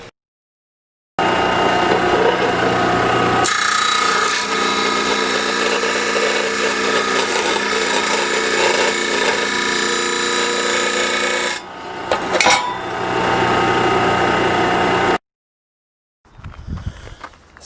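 A power tool cuts steel tube into legs for an ATV side-load trailer, a long, loud continuous grinding whine. It stops abruptly, some brief clattering follows, and then there is a pause before a short final burst.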